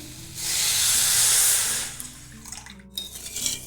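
Water is poured from close by into a pan of about two hundred grams of sugar to make syrup, a steady hissing splash for over a second that fades into faint clinks and rustles.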